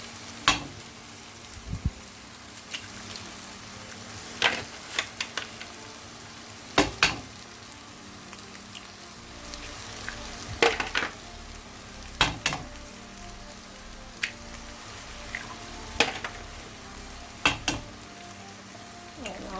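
Eggs frying in cooked masala for vegetable kothu parotta, a soft steady sizzle broken by sharp, evenly spaced clicks and taps of a spatula against the pan.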